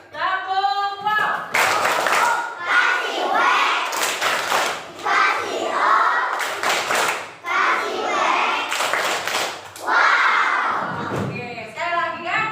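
Children in a primary school classroom clap out the 'tepuk wow' chant, several bursts of sharp group claps alternating with their chanting voices. The clapping is loud and rhythmic.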